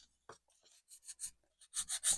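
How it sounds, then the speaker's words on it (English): Light sanding of a wooden picture frame: a quiet series of short, soft rasping strokes, with more frequent strokes near the end and no talking. "I'm just going to give it a really light sanding."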